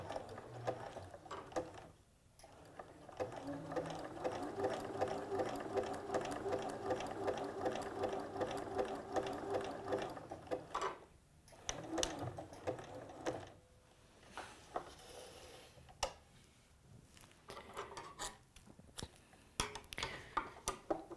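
A household sewing machine runs a zigzag stitch over elastic for smocking, whirring steadily with a fast mechanical ticking rhythm, pausing briefly a couple of times before ending in short bursts.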